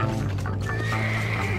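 A horse whinnies loudly and steadily over a continuous low hum in the video game Red Dead Redemption, a single drawn-out neigh heard up close.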